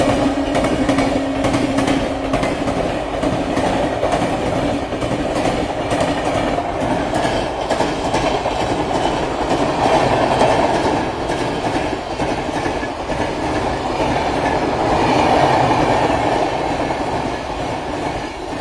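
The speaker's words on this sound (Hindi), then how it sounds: "अब यहाँ से अपनी ट्रेन जो है वो DFC वाली लाइन में शिफ्ट होने वाली है।" A train runs along the tracks at night while switching onto the DFC line. Its wheels rumble steadily and clickety-clack in a continuous rhythm, with occasional wheel squeal, close and loud for the whole stretch.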